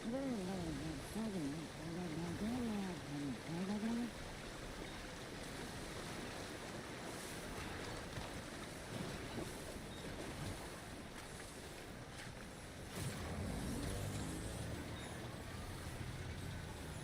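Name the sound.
rising river water flowing in a video game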